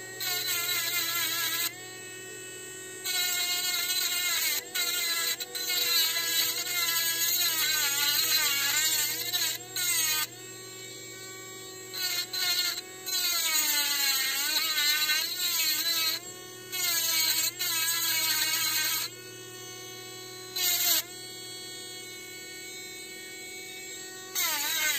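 A small rechargeable mini engraver rough-grinds in bursts with high, whining buzzes that rise and fall, broken by short pauses, close by.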